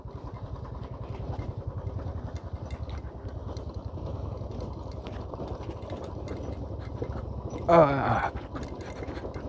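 A motorcycle rumbles steadily over a rough, bumpy, stony dirt road on a ride to Bhalche in Nuwakot, the engine chugging close and continuous with rattling jolts and a brief louder clatter near the end.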